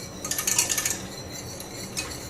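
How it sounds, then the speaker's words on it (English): A utensil stirring thickening bread pudding sauce with cornstarch in a pot, heard as a quick series of soft scraping clinks against the metal, close and quiet, with a faint later tap. "I didn't stop stirring, by the way, but now that it's thickening, I'm going to turn off the heat."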